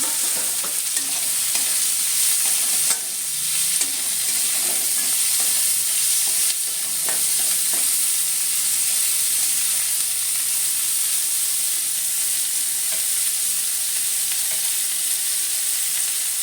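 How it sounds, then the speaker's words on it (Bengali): Chopped onion frying lightly in a small amount of oil: a continuous close hiss and sizzle with occasional spatula scrapes against the pan, steady and unbroken, with nobody speaking. "এখন দিয়ে দিচ্ছি পেঁয়াজ কুচি। এটা একটু হালকা ভেজে নেব।"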